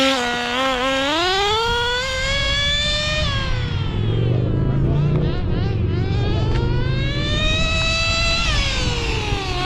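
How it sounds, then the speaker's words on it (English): A tiny Sportwerks Chaos nitro RC buggy engine screams at high revs, its whine sweeping up and down in pitch as it speeds away and returns, loud and buzzy throughout. "Man, that engine is revving."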